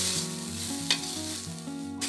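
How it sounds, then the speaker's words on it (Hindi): Cabbage and cauliflower stir-frying over medium-low heat for a vegetable soup, giving a continuous soft sizzle with a steady tonal melody playing underneath. "और इसे हम थोड़ा चलाते हुए थोड़ी देर इसको भूनेंगे"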